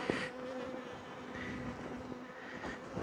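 Honeybees buzz around a honey-heavy hive box left too long without harvesting, a steady close drone with individual bees whizzing past throughout.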